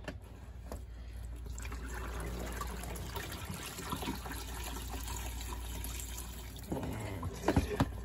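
Acrylic yarn soaking in basic dye is tipped out, a steady broadband pour and splash of dye water running throughout, moderately loud and close, with a few heavier sloshes near the end.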